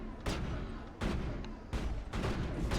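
Gunfire in the Mass Effect video game comes in four sharp, loud bursts spaced roughly evenly, each a crackling volley over a constant low background rumble.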